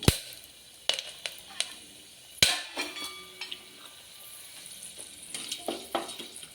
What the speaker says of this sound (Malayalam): കടുക് പൊട്ടി വരുമ്പോൾ രണ്ട് കഷ്ണം പട്ട ഒരു രണ്ട് ഏലക്ക ഒരു മൂന്നാല് ഗ്രാമ്പു